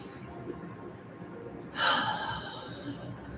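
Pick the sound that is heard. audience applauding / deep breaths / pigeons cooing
deep breaths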